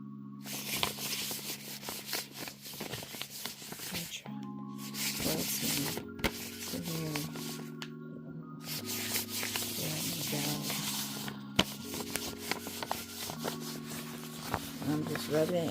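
Oil being rubbed by hand into a spell jar, a steady soft rubbing and scuffing that runs on with brief pauses, close and fairly quiet, with a constant tone humming underneath.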